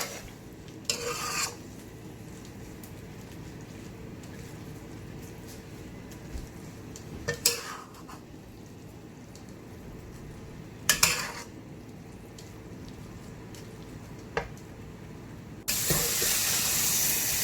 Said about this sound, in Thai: ผัดให้แห้งเลยนะ